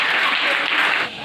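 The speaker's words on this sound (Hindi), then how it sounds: "बहुत बहुत ताली बजाइए जी" An audience of villagers and children at an education event in Bihar claps loudly and continuously in a short, dense burst that eases slightly at the end.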